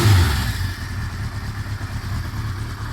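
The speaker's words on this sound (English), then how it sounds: "The bike runs, I will show you." A Suzuki GS 550 cafe racer motorcycle engine runs near the microphone, a steady low mid-pitched idle rumble that holds evenly throughout, slightly louder at the start.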